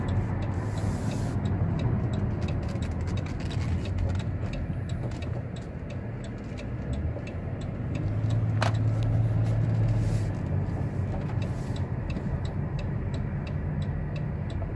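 A 2016 Dodge Caravan SE Plus wheelchair mobility van drives along a road, giving a steady, fairly loud cabin rumble of tyres and engine with a faint repeated ticking throughout. No one speaks.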